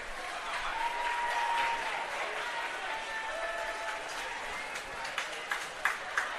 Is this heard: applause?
yes